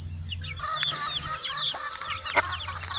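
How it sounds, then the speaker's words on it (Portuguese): Hens and chickens cluck busily around a farm nest site in the bush, short overlapping calls near and far over a steady background drone, with no one talking. "Aí eu venho aqui e a galinhada vem tudo atrás"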